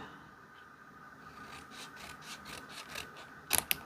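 Scissors trim paper into a deep fishtail for a scrapbook page, making soft rhythmic rubbing snips close by, ending with a couple of sharper clicks of the blades.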